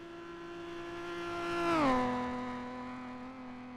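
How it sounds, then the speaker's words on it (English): Two-litre race car engine at the Isle of Man time trial, a loud harmonic buzz that swells as it nears and drops sharply in pitch as it passes close by, then fades away. "Two litre car sounding like an angry bee."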